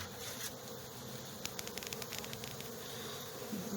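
Honeybees buzz around a hive, a faint, steady hum of many insects with small ticks and handling knocks as a beekeeper works nearby.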